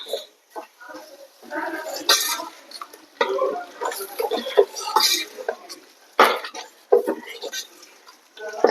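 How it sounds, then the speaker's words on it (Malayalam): Garam masala stirred into beef curry in a pan, with uneven clanks and scrapes of a spoon against metal, some louder knocks, and rustling between them. "ഇനി നമുക്കൊന്ന് ഇളക്കി യോജിപ്പിക്കണം."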